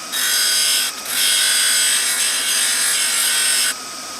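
A carbide scraper blade ground against a grinding wheel for a mini lathe, giving a steady, loud, bright hiss with a brief dip near one second, then cutting off sharply near the end.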